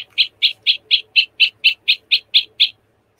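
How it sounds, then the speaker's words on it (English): Electronic singing bird toy plays a blue tit song: about eleven evenly spaced, bright chirps in a steady rhythm, close and clear, ending abruptly into quiet. "there is a blue tit somewhere"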